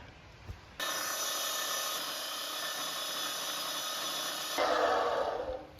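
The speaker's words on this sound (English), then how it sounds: "we'll hop it over onto the drill press. And we're drilling some pretty significant holes." A steady, loud mechanical whine starts abruptly and runs continuously, with a harsher grinding tone near the end, as a drill press bores large holes into thick steel.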